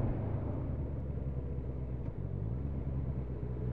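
A motorcycle engine held under steady, opening throttle while riding through a roundabout, a continuous low rumble at constant level throughout, close and alone with no talk.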